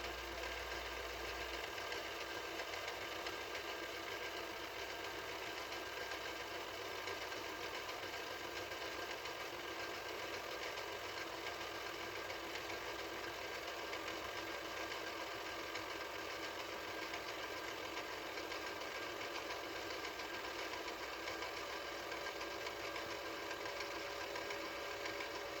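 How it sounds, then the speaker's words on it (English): A 1983 Mitsubishi HS-700UR portable VCR runs in playback, its motor drive and the small clutch under the reel giving a steady, faint mechanical rattle and whir that continues unbroken throughout. "the motor drive with that little clutch underneath the reel is a little rattly"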